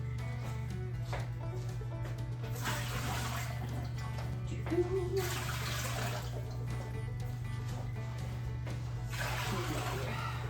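Water poured into a 23 quart Presto pressure canner, a steady close splashing rush in several bursts over a constant low hum, with brief speech mixed in.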